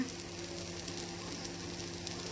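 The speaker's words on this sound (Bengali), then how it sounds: "এই যে মশলা কষে গেছে" Spice paste sizzles steadily in a kadai while being sautéed for kadai paneer, a continuous soft frying hiss with faint stirring, close and moderately quiet, with no voices.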